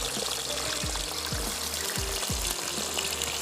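Plain potatoes fry in hot oil with a steady, fairly quiet bubbling sizzle throughout, with a few soft low thumps.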